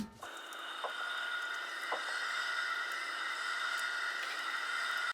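Thin, hissing noise layers drift with high airy tones and occasional faint clicks, creating a cold, eerie, dark atmosphere with no low end.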